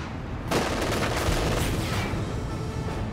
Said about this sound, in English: Infantry shooting at us!